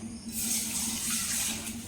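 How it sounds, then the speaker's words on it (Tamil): Water poured into a roadside-style chutney makes a steady, close splashing and trickling stream, short and unbroken, with no talking. "இப்போ வந்து தண்ணி இதில் கொஞ்சம் சேர்த்துக்கிறேன்."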